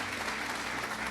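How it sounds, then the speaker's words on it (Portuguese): Church congregation clapping during a sermon, a short, even wash of applause lasting about a second, fairly soft and steady. "Você pode aplaudir ao Senhor por isso, amém?"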